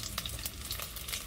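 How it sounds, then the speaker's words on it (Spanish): A piece of onion fries in a little oil, giving a steady, close crackling sizzle with small pops throughout. "aquí estoy friendo ya un trozo de cebolla con un poquito de aceite"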